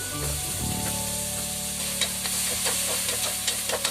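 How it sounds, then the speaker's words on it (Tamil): Tomatoes sauté in a pan for biryani, giving a continuous sizzle with a low hum beneath and intermittent spoon clicks and scrapes toward the end. "தக்காளி நல்லா ஜூஸியாக மசிகிற அளவுக்கு நல்லா வதக்கி விட்டுருங்க"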